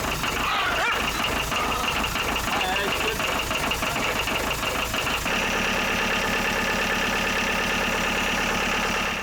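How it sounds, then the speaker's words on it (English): An old marine diesel engine, about fifty years old, cranks and fires into a steady running clatter, loud and close, the tone shifting abruptly as it settles into an even idle. "But we'll start the engine and see if the oil pressure does anything."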